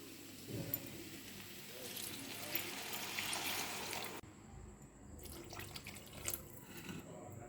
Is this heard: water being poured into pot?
yes